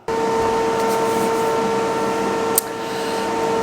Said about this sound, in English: the noise you can hear in the background is the air extraction, the MaxVacs.